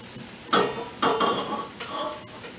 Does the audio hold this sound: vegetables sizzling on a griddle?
yes